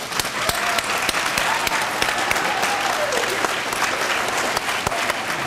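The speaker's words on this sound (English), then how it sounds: "Let's clap for my homeroom right here" Audience clapping at a kindergarten D.A.R.E. graduation ceremony for a homeroom class, a steady, busy patter of many hands with sharper individual claps standing out, continuing throughout at a fairly loud level.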